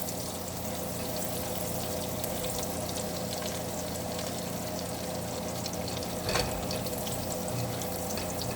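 Garlic toasts in olive oil with a little butter in a pan, giving a steady, even sizzle with one brief clink partway through.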